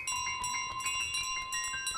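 A handbell in Untitled Goose Game clangs in quick repeated strikes, a bright ringing that keeps going for two seconds, near and loud, with no voices over it.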